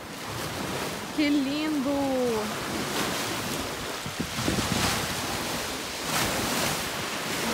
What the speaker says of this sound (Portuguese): O mar tá brabo.